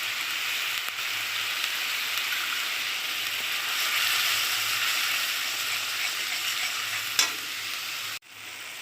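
Onions sizzle in hot oil with ginger, garlic and green chilli while cooking dahi katla, a steady broadband frying hiss with scraping stirs throughout, one sharper clatter near the end, then a brief pause before the sizzle resumes; no talking.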